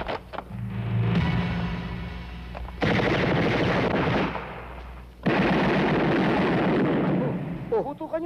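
Gunfire in a Filipino action movie: bursts of machine-gun-like shots and blasts fill long stretches, loud and dense, broken by brief pauses, with shouting voices mixed in.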